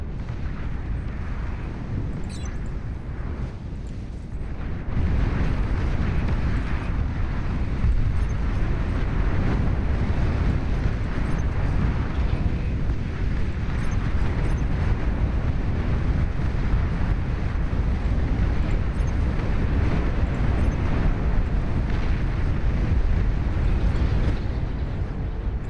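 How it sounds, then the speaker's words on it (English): Long-range plasma cannons fire in the strategy game Beyond All Reason, a continuous heavy rumbling barrage that jumps louder after a few seconds and stays dense and roaring throughout. "Long-range plasma cannons are targeting the units."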